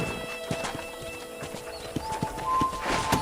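Horse hooves clip-clop at a walk in Red Dead Redemption, a steady run of close hoofbeats over soft ambient game sound, with a brief whinny near the end and no talking.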